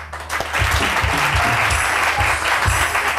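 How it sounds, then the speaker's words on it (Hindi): Loud audience applause at a weekend talent show, a thick burst of many hands clapping close by, with low thumps underneath. "तालियां।"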